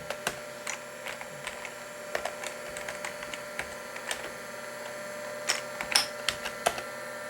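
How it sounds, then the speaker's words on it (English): A Shugart ST506 5.25-inch hard drive runs with a steady whirr, punctuated by irregular faint clicks and ticks of its head seeking, quiet and close with no talking. "at least you have now seen the oldest existing 5¼ inch hard drive at work"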